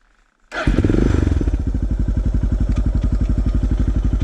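A Suzuki DR650 adventure motorcycle starts with a sudden roar and then revs with a loud, close, rapidly pulsing thump of its single-cylinder engine on a steep, rocky, boulder-strewn uphill trail.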